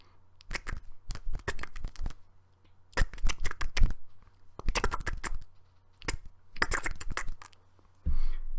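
Someone imitates the sound of a crab with dry, scratchy clicking bursts, like cards being shuffled. Four rough clusters are heard close up, separated by short pauses, and a fifth begins at the end.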